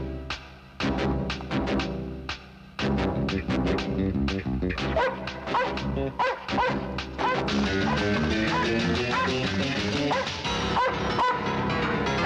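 A dog barks rapidly and repeatedly in loud bursts over a dramatic film soundtrack, with music swelling around the barking throughout.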